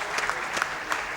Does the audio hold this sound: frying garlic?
no